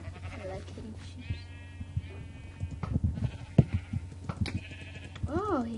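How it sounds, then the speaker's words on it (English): Minecraft sheep bleating as they are struck, several wavering baa calls scattered among thuds and game sounds, with a voice talking faintly underneath. "I'm hitting the sheep."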